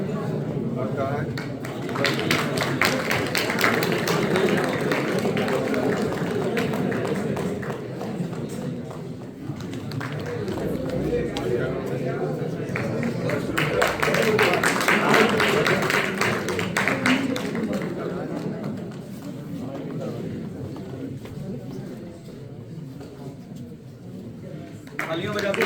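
An audience keeps up sustained applause at an award ceremony, a thick patter of many hands that swells and eases slightly over time, with voices audible among the clapping.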